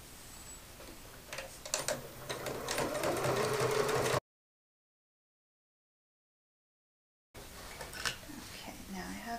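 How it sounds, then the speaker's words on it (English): A sewing machine stitches down the sides of a commuter tote bag with back stitches, giving a steady rapid ticking run that stops in full silence, then resumes briefly, with no one speaking. "you're gonna stitch down both sides, reinforcing with the back stitch at the beginning and the end"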